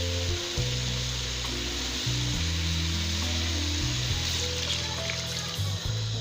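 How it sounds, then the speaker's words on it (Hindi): Half a litre of water is poured into a pan of tinda and chicken liver curry, setting off a steady, close sizzle and bubbling that runs throughout, with tonal background music underneath. "अब मैं हाफ लीटर पानी शामिल कर रही हूँ।"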